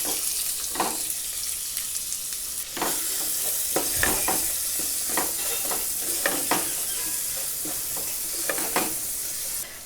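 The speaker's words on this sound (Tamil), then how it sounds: "அதை சேர்த்து வதக்கிக்கலாம்." Chopped onion sautés in a pan for a mutton gravy with fennel seeds, giving a steady, close hiss and sizzle broken by frequent scraping stirs of the spoon and no voices.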